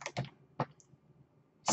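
Several quick, close keystrokes on a computer keyboard while a Windows Command Prompt command is typed: a few irregular clicks with short pauses between them, alone with no talk.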